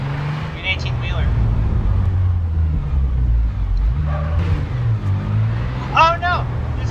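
Truck engine in Garry's Mod on a tornado map, a steady low rumble throughout with a person talking over it and a brief higher whine near the end.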